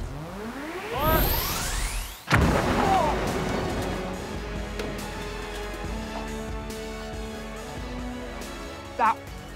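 A giant vortex cannon fires a smoke ring, a rising whine giving way to a single heavy deep boom and crash, then a long rumbling decay with scattered clatter and a brief burst near the end.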